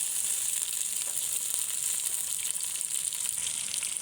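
Chopped tomatoes hitting poultry chicken frying in a pan, giving a steady, close, bright sizzle with light crackles throughout, no voices.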